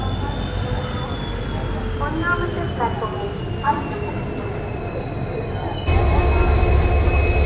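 The Palakkad–Nilambur special passenger train runs with a steady rolling rumble and faint squealing wheels, with a louder surge of rattling near the end.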